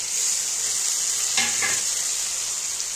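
A paste of ground onion, chili and cumin sizzles steadily in hot oil, a close continuous hiss broken by a brief stirring scrape partway through.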